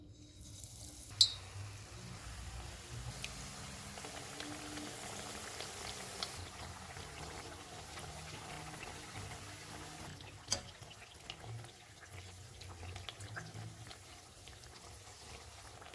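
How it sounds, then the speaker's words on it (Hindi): Potato slices dipped in batter deep-fry in hot oil over a low-to-medium flame, giving a steady, soft bubbling sizzle throughout with a couple of brief clinks. "आलू का एक पीस लेंगे, इसे बैटर में डिप करके फ्राई कर लेंगे।"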